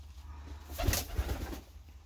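Pigeons cooing inside a loft: a few soft, low coos clustered near the middle, faint and close, over a quiet room hush with no talking.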